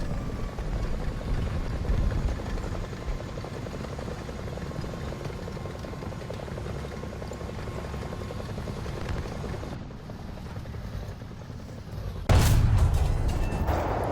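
Helicopter in War Thunder, a steady loud rotor drone with rhythmic chopping that runs throughout, briefly dipping before a sudden heavy boom near the end.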